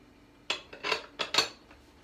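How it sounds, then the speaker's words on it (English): A metal lid clatters back onto a pot holding a pound of mussels, giving several close, sharp clinks and knocks in quick succession with no talking. "We're going to throw the lid back on"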